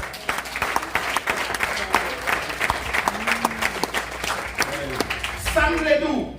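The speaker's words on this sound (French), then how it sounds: "on applaudit le Seigneur." A church congregation claps during a sermon, a dense, lively patter of hands running throughout, with voices and talk mixed in beneath the clapping.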